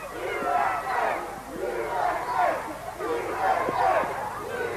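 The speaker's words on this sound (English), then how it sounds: "Crowd chanting USA." A wrestling arena crowd chants "USA" in loud repeated rhythmic waves, three syllables per cycle, massed voices echoing through the venue.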